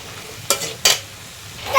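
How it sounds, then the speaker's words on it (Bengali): Jackfruit seeds being stirred with turmeric and cumin powder in a pan: two sharp scraping strokes over a faint background sizzle, close by. "আমি এটাকে নাড়াচাড়া করে মিক্স করে নেব"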